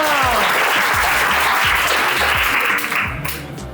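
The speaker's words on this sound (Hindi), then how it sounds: "वहां भी कभी कभी तालियां बजाओ।" An audience at a motivational talk breaks into loud, dense applause that fills the room, then thins out and fades near the end.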